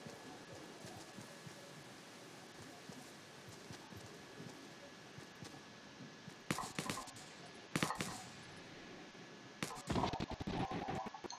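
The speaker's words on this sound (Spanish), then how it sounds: "Creo que están disparando." Distant gunfire comes in three short bursts of rapid shots, separated by quiet stretches of soft background noise.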